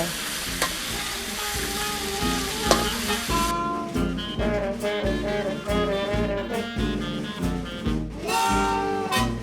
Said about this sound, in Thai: ผัดลงไปเลยเนี่ยใส่ลงไป